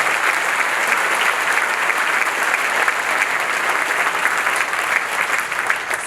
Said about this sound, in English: let's give them all a great round